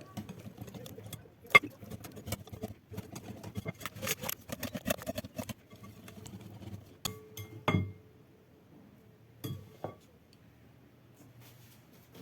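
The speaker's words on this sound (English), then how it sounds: "continue mixing to combine everything together." Spring roll filling is stirred in a bowl, giving close, irregular clinks and scrapes of a utensil against the dish, busy at first and thinning out toward the end, with a faint low hum behind.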